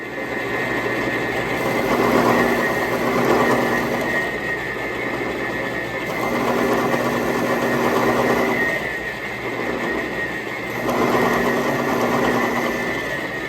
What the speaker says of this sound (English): I chucked up a little 4-flute end mill I have here, and I'm just going nice and slow using some cutting fluid